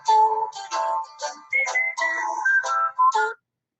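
A mobile phone rings with a melodic electronic ringtone, several bright tonal bursts in a rising-and-falling pattern lasting about three seconds, then stopping, with no talk over it.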